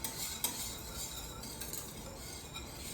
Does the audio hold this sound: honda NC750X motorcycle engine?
no